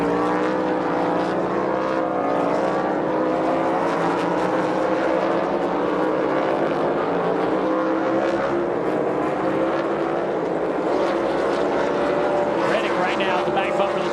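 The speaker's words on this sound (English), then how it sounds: "Reddick right now at the back bumper of the 20 car of Seabell." NASCAR Cup Series race cars roar around a track in a 2025 race, a loud unbroken engine drone with rising and falling tones as cars pass side by side, and commentators talk over it.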